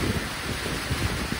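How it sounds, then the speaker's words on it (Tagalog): Heavy rain with wind in a rural outdoor setting, a dense, steady wash of noise with gusting wind buffeting the microphone, heard alone for a short moment. "Lakas ng ulan."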